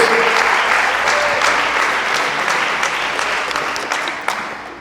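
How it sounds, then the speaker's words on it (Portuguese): A church congregation applauds together during a Portuguese-language sermon, producing a full, even roar of clapping that slowly tapers off toward the end. "Você pode aplaudir essa palavra em nome de Jesus?"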